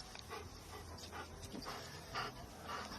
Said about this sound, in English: Like, who would put the dog panting in the background?